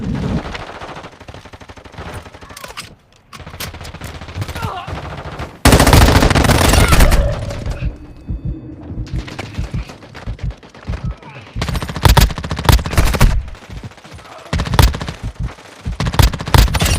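Rapid video game gunfire in bursts of automatic and single shots, loud and close, with a sharp heavy volley partway through and shouted speech in between.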